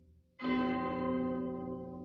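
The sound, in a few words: bell ringing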